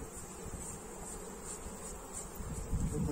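Honey bees buzzing steadily around a beekeeper working the hive, a dense, continuous drone with a high whine, close and moderately loud, with no talking.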